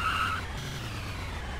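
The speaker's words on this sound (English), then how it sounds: "I'm just gonna collide this car with it" A car in a Unity 3D driving game hits a cluster of physics cubes, giving a brief loud whine and tire skid that fades into steady engine noise.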